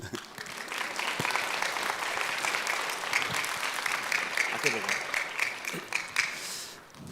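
Congregation applauding during a Sunday afternoon church service, a steady, dense wash of many hands clapping together that holds for several seconds before easing, with faint voices mixed in.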